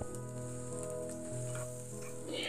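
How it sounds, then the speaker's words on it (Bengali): Onions fry with ginger and garlic in a pan, a steady close sizzle with faint stirring scrapes and no talking. "এবার আমি পেঁয়াজগুলোকেও একটু গোল্ডেন কালার আসা পর্যন্ত ভেজে নিচ্ছি।"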